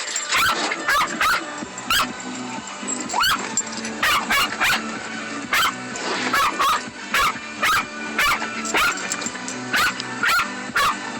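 A dog barks repeatedly and sharply close by during a car wash, the loud barks coming in irregular bursts over a constant background hiss of water spraying.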